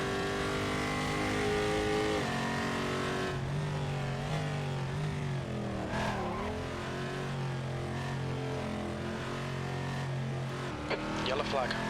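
A race car engine in the Assetto Corsa racing game at Calabogie holds a steady loud drone that shifts pitch as it lifts off and gets back on the throttle, with a rising whine of acceleration near the end.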